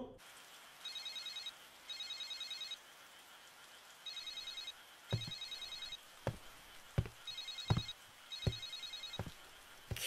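Mobile phone ringtone in an anime episode rings in repeated short electronic bursts, fairly faint, while sharp knocking thumps join in during the second half.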